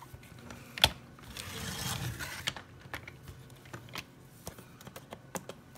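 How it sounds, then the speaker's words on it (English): A Fiskars rotary paper trimmer slices through card stock, giving a short rolling crunch near the start, followed by scattered light clicks and taps. The sounds are close and fairly quiet, with no talking. "I'm bringing in my Fiskars rotary paper trimmer."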